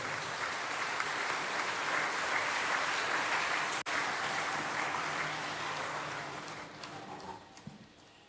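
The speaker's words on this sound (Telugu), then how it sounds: "చప్పట్లు కొట్టి దేవుని స్థుతించుదాం" A congregation at a priestly ordination ceremony breaks into sustained applause, a dense, steady wash of clapping from many hands in a reverberant hall that carries on for several seconds before gradually thinning out.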